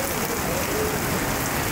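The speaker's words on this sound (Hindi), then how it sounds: "बारिश आज हो रही है तूफ़ानी," Heavy stormy rain pours down steadily under dark clouds, a dense, continuous hiss filling the space with no break.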